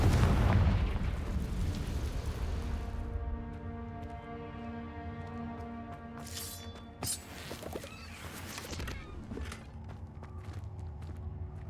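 Explosive fire-spell blast in the video game Hogwarts Legacy: a loud booming burst at the start that decays into a ringing, tonal tail, followed by a few lighter pops and clicks.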